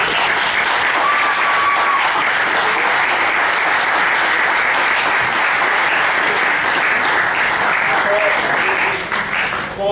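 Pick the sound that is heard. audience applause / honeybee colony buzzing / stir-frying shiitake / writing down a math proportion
audience applause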